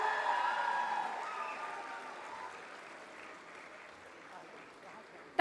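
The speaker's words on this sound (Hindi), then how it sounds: "तालियां बजती रहनी चाहिए" A festival audience at Sparsh Himalaya Mahotsav 2025 applauds to welcome Padma Shri Kailash Kher, dense continuous clapping from a large crowd that slowly thins and fades over several seconds.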